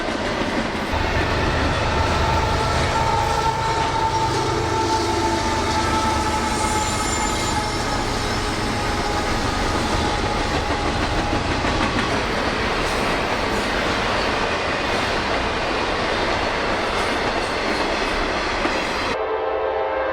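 A freight train more than 2 miles long, with a distributed power locomotive mid-train, rolls steadily past at Folkston, its cars rumbling and clacking loudly over the rails, with wheel squeal and a horn sounding for the full stretch until it ends abruptly.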